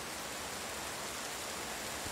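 Heavy night rain as a cartoon sound effect, a steady dense hiss with no breaks or separate drops, loud and even throughout.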